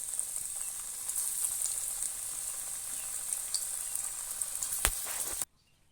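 Drumstick leaf vadas sizzle steadily in hot oil, a dense, even crackle with small pops that continues for several seconds before cutting off to near silence.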